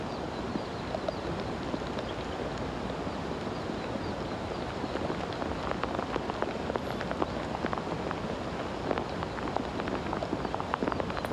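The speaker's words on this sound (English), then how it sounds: "Steady rain" Steady rain falls on a golf course during the final round of a women's professional tournament, a dense continuous hiss with scattered sharper patters, moderately loud and unbroken for the whole stretch.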